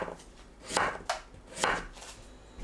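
A knife slices potatoes into thick rounds on a cutting board, giving three distinct crisp chops spaced about a second apart at close range, with no voices.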